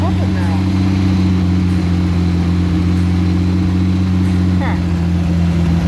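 The solid-lifter engine of a 1976 Mustang II Cobra runs at a steady idle, a loud, close, even hum. Someone talks over it, and no separate fuel pump sound stands out.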